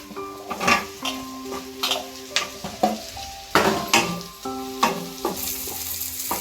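Raw mango pieces drop into a hot pan and are stirred, giving a run of sharp metallic scrapes and clinks of a utensil against the pan over a steady sizzle, with no one talking.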